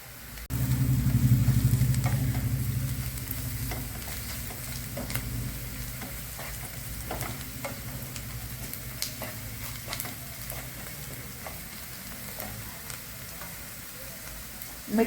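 Sliced onions frying in a pan with turmeric and a spoonful of masala for egg masala curry, a strong hiss at first easing into a softer steady sizzle with scattered light clicks of a spatula.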